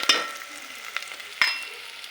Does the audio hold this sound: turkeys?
no